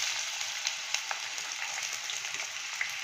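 Onions sizzle in hot oil for a chicken curry, a steady bright crackle with scattered pops running throughout, close and fairly quiet, with no voices.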